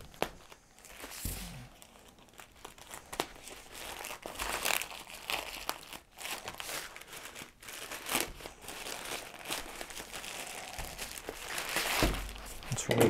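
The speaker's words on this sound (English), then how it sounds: "Let's remove the packaging." Plastic wrapping around a kalimba crinkles and rustles as it is pulled off by hand, in irregular bursts of crackling that grow busier toward the end, close and moderately loud.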